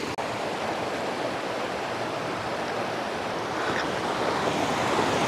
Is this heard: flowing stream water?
yes